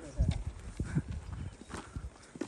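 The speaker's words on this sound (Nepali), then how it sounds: "घोडा चलिरहेको पानीमा" A horse walks through water on a Langtang trek in Nepal, its hooves splashing and clopping in uneven steps, with people talking over it.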